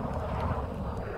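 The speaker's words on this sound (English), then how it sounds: "That was a helicopter." Helicopter flying past in a military video game at night, a steady, fairly loud rotor and engine drone that holds evenly for about a second with no voices.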